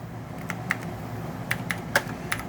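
Keys tapped on a computer keyboard while typing a line into a word processor, a few sparse, light clicks at an unhurried pace, close and clear above a steady low room hum, with no talking.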